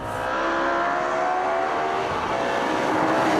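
Modified BMW 3 Series Touring engine carrying through a corner, a steady loud drone with sustained engine tones and tire roar close by, no voices.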